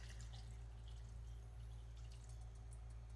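Water is poured into a pot of Korean kimchi stew, a soft steady pour with faint dripping over a constant low hum, quiet and close.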